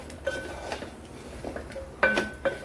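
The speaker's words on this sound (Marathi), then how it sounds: "भाजी छान परतून घेऊया फोडणीमध्ये" Red pumpkin vegetable being stirred into a spice tempering in a pan, with a few scattered clinks and scrapes of a spoon against the metal, some sharper taps near the end, no voices.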